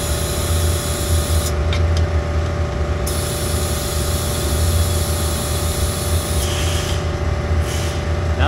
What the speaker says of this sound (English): I can hear the air hitting the frame